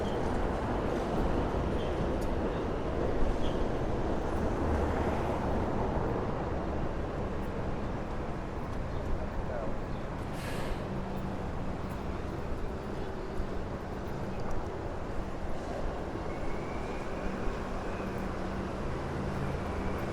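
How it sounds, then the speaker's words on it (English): A Manhattan-bound M subway train rumbles continuously on the elevated track overhead on Fresh Pond Road, Ridgewood, Queens, a steady broad roar with faint squeals, holding at the same loudness throughout. "There's a Manhattan-bound M train at the top."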